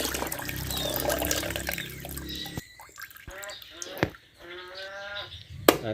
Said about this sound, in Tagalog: Atin nang lagay sa pitsel ang tubig ng nyog.